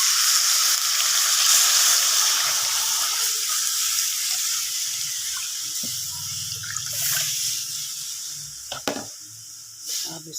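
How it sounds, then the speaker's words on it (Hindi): Spiced buttermilk lassi for kadhi is poured into a hot pan, producing a loud, hissing sizzle that gradually fades. Scraping and stirring knocks follow near the end. "अब मैं डालूँगी ये सारी लस्सी जिसमें सब कुछ मैंने शामिल किया।"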